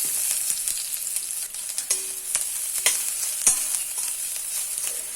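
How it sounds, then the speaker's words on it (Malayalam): Mustard seeds splutter in hot oil, a dense crackle of sharp, irregular pops over a bright sizzling hiss, close and fairly loud, with no speech. "കടുക് പൊട്ടട്ടെ."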